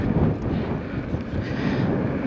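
Steady wind buffeting the microphone while riding an electric unicycle through New Brunswick, a continuous low rumbling roar without voices.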